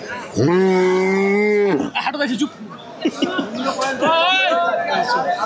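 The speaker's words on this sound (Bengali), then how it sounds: "দেশি গরু এই মুহূর্তে।" A cow gives one long, loud, close moo at a crowded Eid sacrifice cattle market held at a school ground, followed by the chatter of buyers and sellers.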